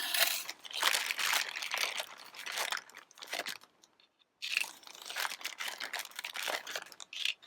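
Scissors snipping through paper card pieces for a handmade greeting card, a close, steady run of crisp crunching cuts that pause briefly midway, then resume.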